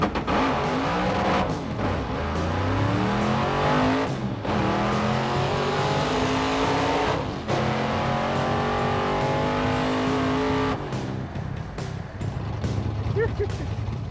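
An F-Rod drag race car launches hard and roars down the strip in a sustained, loud engine note, rising through gear changes with brief dips between shifts, close and dominant throughout.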